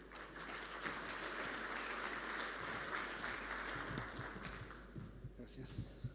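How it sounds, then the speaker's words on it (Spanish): Steady applause from a conference audience at a mining panel event welcoming a speaker, a dense wash of clapping lasting throughout and tapering slightly near the end. "Lo recibimos también con un aplauso."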